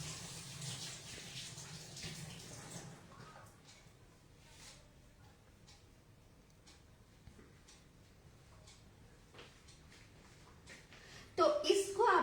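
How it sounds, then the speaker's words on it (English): A kitchen tap runs as hands are washed beneath it, a faint steady water hiss with small splashes that fades, then a louder burst near the end. The sound is fairly distant and quiet. "I'll just wash my hands."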